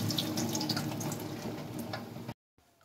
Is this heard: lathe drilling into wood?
no